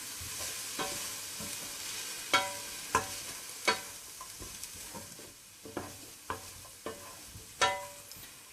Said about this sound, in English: You can add broccoli at this point of time. Just saute a bit.